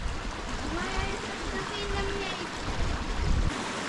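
Mountain stream flowing out of a lake in the Sudetes on the Polish side of Śnieżka, a steady broadband rush and splash of water running throughout at moderate level, with a slight swell near the end.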